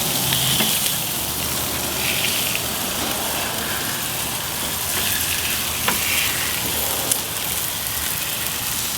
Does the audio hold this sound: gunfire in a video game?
no